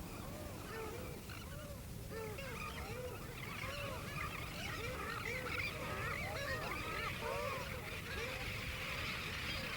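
A dense seabird colony of roughly 350,000 birds on Ilha Rasa, calling continuously: many overlapping honking and squawking cries layered into a steady, loud din with a low rumble of surf or wind underneath, no talk.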